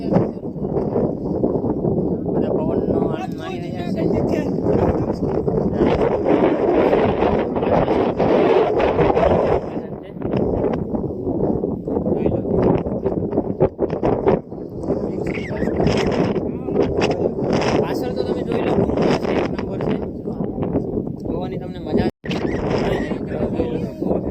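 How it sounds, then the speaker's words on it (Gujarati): Wind buffets the microphone in a loud continuous rush at a hilltop viewpoint at Nagario Pathar, with a voice talking underneath throughout. "પવન આવે છે મતલબ સુકૂન મતલબ ઠંડો પવન"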